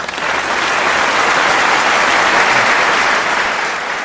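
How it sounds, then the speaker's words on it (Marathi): An audience at a 15 August Independence Day speech event bursts into steady, loud applause that holds for several seconds, then tapers slightly at the end. "वाजवा टाळ्या."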